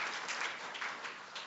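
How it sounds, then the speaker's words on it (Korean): Quiet, steady applause from a forum audience welcoming a government minister, a soft, even patter of many hands held at a low level throughout. "큰 박수로 환영해 주시기 바랍니다."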